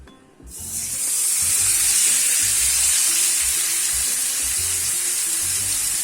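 King fish (vanjaram) pieces with tandoori masala frying in a pan give a steady, loud, close sizzle, with low thumps and crackles underneath, after a short quiet start.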